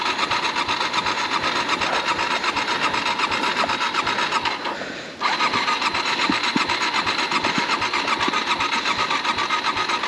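A Yamaha WR250R dirt bike engine cranks steadily without catching after the bike has been laid on its side, a loud continuous rhythmic churning that stops briefly and then resumes.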